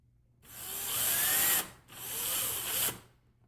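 A power drill drives screws to fasten an electrical switch in a kitchen backsplash outlet box over tile: two loud, close whirring bursts, each about a second long, separated by a brief pause.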